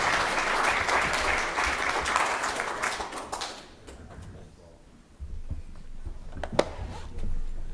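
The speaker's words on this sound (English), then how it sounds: "let's give a round of applause for our panelists." An audience at a session on synthetic turf and health impacts claps for the panelists. Fairly loud applause fades after about three seconds, followed by quieter room noise with scattered handling thumps.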